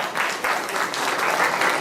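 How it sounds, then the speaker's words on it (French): Loud, dense applause from the audience at the closing ceremony of an international inventions fair in Abidjan, a continuous wash of close clapping. "On applaudit plus fort que ça"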